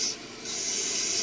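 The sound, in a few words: fine sintered burr grinding a fire agate stone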